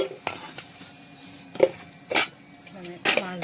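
Fried potatoes are lifted out of a pan while cooking a thin tilapia fish broth, with scattered metal utensil scrapes and clinks against the pan over a soft background sizzle.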